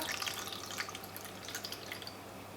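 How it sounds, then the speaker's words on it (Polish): Water poured into a pan over pork loin, a faint continuous trickle with light splashes throughout. "Do schabu teraz wlewam wodę."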